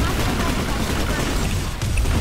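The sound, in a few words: Bruiser shotgun firing in Planetside 2 video game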